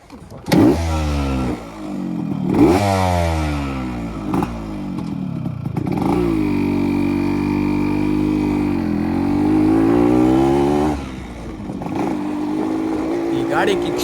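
A 1999 Yamaha RX-Z 132cc two-stroke motorcycle being ridden, its engine revving up and down through gears in rising and falling sweeps, loud and close, with a voice speaking over it.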